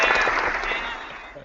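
Burst of applause from a sound effect, many hands clapping loudly and densely, dying away toward the end.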